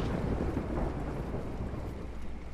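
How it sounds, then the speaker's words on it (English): Thunder in the video game Ghost of Tsushima rolls as a loud, continuous low rumble with a rain-like hiss and no breaks or talking. "That thunder is pretty loud."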